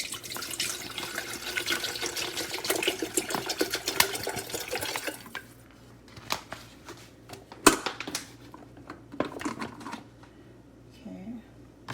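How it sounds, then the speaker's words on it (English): Water runs into a 2.0-liter stainless steel electric kettle, a busy splashing stream for about five seconds, then sparser clinks and drips with small handling knocks and a sharp clack. "Put some water in it."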